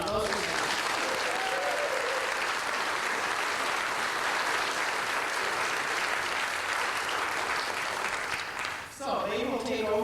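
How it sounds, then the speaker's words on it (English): A steady, full round of audience applause fills a church hall at a 75th anniversary program, sustained and loud, fading briefly near the end as voices return. "let's give them all applause right now"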